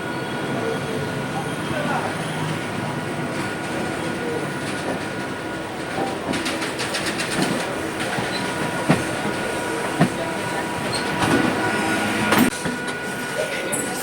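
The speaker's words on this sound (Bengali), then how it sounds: "আমাদের ট্রেন এখন প্রবেশ করছে শিয়ালদা স্টেশনেতে" A local EMU train rolls into Sealdah station with a steady rumble, rhythmic wheel clacks and occasional sharp squeals and knocks, heard from on board with voices now and then.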